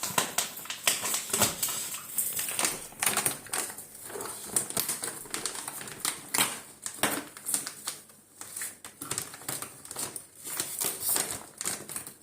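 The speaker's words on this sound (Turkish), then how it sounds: "Aa paketimizin ağzını yırttın." A dog named Pars rips into a 15 kg bag of Jungle brand lamb adult dog food, making close, irregular bursts of crinkling, tearing and rustling packaging that come in quick flurries with short pauses.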